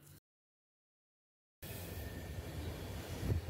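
The Howrah–Mumbai Mail via Gaya runs on the tracks, heard from inside as a low, steady rumble with faint clatter that follows a stretch of silence and grows slightly louder toward the end.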